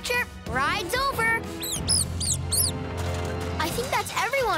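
Cartoon mice squeak in a rescue scene from a children's animated series, several quick high-pitched chirping squeaks in bursts, loud and close, with voices talking around them.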